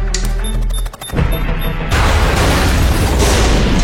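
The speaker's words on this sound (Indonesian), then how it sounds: "Akibat ledakan itu, Peterson terluka dan tidak sadarkan diri." A loud explosion bursts out, its roar filling the air and rumbling on for a few seconds. Some higher tonal sounds ring out briefly before it.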